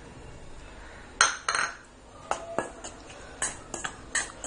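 A spoon mixes dry ingredients and sugar for sesame seed cookies in a bowl, giving scattered light clinks and scrapes against the bowl, close and moderately loud, with no talk.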